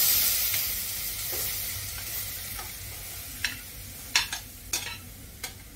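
Tomatoes and capsicum sizzle in a pan for restaurant-style pav bhaji with a gentle, steady hiss. Crisp spoon scrapes and clacks against the pan punctuate the later part, and no one speaks.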